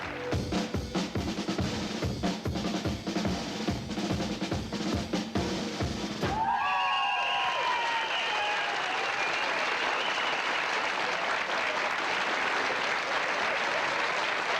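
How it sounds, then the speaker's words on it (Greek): A 1995 Greek television game show: rhythmic studio music plays for several seconds, then cuts to loud, sustained studio audience applause for a contestant, with whistles and cheers rising over the clapping. "Μπράβο, χειροκροτήστε την."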